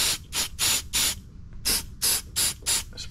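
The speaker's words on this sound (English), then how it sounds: "Spray it on there." Short hissing squirts of lubricant aerosol spray onto a car's spherical rear bearing, about nine quick bursts in a rhythmic series close by, with a brief pause midway.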